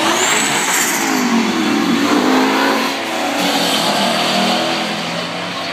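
A 700 horsepower car races a 300 horsepower car, engines roaring loud and steady with revving and rising pitch as they pass close by, continuous throughout.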